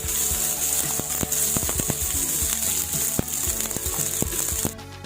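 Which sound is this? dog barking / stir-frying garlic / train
stir-frying garlic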